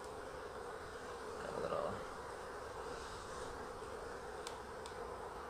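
Honeybees hum in an open Layens hive during a spring artificial swarming inspection, a steady close buzz that swells briefly, with someone speaking quietly over it.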